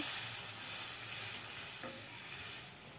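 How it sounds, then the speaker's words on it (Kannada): Tamarind juice poured into a hot frying pan for drumstick sambar, a continuous sizzling hiss with bubbling and stirring, close and steady throughout. "ಈಗ ಹುಣಸೆ ಹಣ್ಣು ರಸವನ್ನೇ ಸೇರಿಸ್ತಾ ಇದ್ದೀನಿ"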